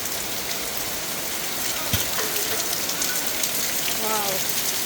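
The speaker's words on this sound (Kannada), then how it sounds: "ಈ ಫಾಲ್ಸ್ನ ಬಂದು ರೈನ್ಬೋ ಫಾಲ್ಸ್ ಅಂತಾರೆ." Rainbow Falls, a waterfall along a three-mile hike in New York, gives a steady, dense rushing roar that fills the whole clip, with a voice briefly heard near the end.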